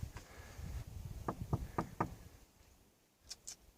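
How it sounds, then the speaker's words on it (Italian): Knuckles rap on the door of an old house in a quick series of about four dull knocks, fairly faint over a noisy outdoor background, followed by a couple of lighter clicks. "Adesso proviamo a bussare."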